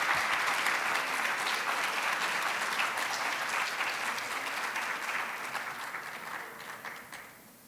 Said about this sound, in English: So can I just give a round of applause?